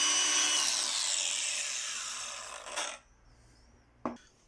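An AEG 18V brushless angle grinder whirs loudly at close range after a restart, a steady high whine that holds for about three seconds, then cuts off and leaves near silence broken by one short knock.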